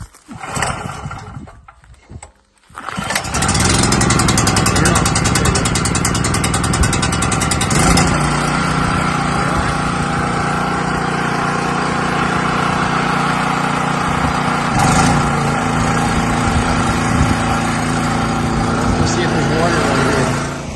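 A pull-cord generator engine with the choke set halfway, yanked a few times before catching, then running at a steady, loud, droning idle until the end.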